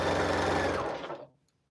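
A domestic sewing machine runs during machine maintenance after oiling, whirring steadily and loudly for about a second before winding down and stopping, leaving near silence.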